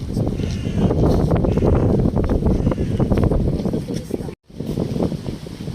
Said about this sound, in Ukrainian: сильно великий вітер на Петрівці